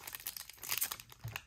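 Pokémon card booster pack wrapper crinkling and crackling faintly up close as it is worked open by hand, in short, irregular rustling bursts.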